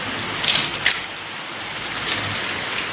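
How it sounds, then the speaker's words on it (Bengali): A sudden heavy rain shower on a hot day comes down in a steady broadband hiss, with a few louder gusty swells and splashes, heard close from indoors by a window. "তো এখন দেখো বৃষ্টিটা হচ্ছে"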